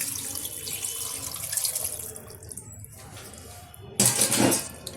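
Water poured into a pot of mutton curry, a running, splashing stream that swells loudly toward the end, with faint clinks of the pot nearby.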